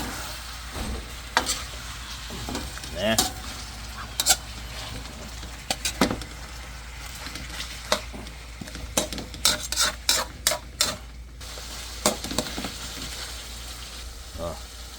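Pork shoulder fries in a pan with garlic and onion, a loud continuous sizzle broken by frequent scraping and stirring strokes of a utensil against the pan, with occasional clinks.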